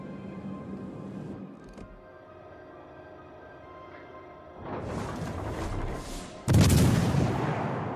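Naval guns of the cruiser Boise in the video game World of Warships go off as a couple of heavy booming salvos, the last one loudest, over a low ambient rumble.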